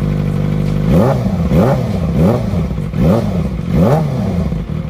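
A Kawasaki Ninja ZX-25R with an Austin Racing aftermarket exhaust revs repeatedly, about five sharp throttle blips in a steady rhythm, loud and close, each rising and falling over a rumbling idle.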